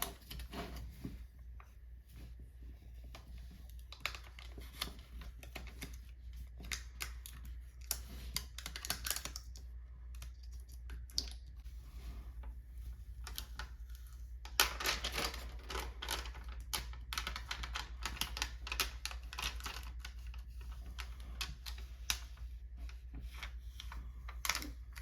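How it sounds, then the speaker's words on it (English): A Cricut vinyl decal is rubbed down with a burnishing tool, producing quiet, close, dense scratchy clicks and scraping strokes in irregular bursts over a low steady room hum, without any talking. "So I will just go ahead and burnish this down"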